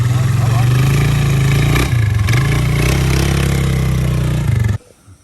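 A Polaris Scrambler 500 quad engine running close, a loud low throbbing idle with a brief dip and blip midway before cutting off abruptly near the end, a voice talking over it.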